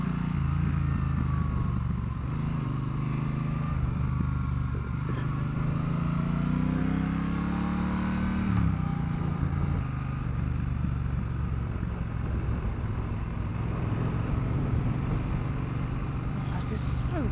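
Triumph Bonneville Bobber 1200 motorcycle being ridden, a continuous low engine rumble with shifting revs and wind noise, while the rider talks over it.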